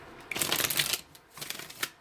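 Tarot cards are shuffled in quick riffling bursts, a dense papery flutter for about a second, a short pause, then a second, softer run of card slaps.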